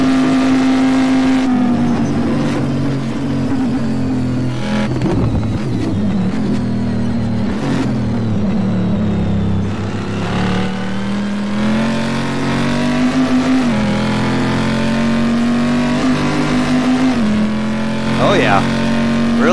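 A steady synthetic engine hum from a modded Camaro GT in a racing video game drones throughout, shifting pitch slightly as it revs, with a voice talking over it most of the time.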